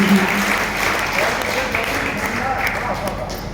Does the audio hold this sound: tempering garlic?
no